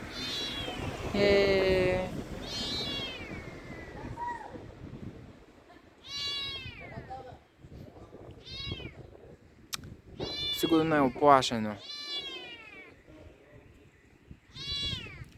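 A young kitten, about one to two months old, perched on a tiled roof wall, meows plaintively in repeated high, wavering cries, fairly close and clear, while people talk quietly nearby.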